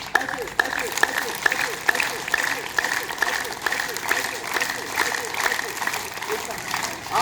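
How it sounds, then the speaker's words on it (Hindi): Steady rhythmic hand clapping from a group during a yoga awareness session at a primary school in Prayagraj, continuing evenly throughout with voices talking over it. "ताली के लिए बजाइए"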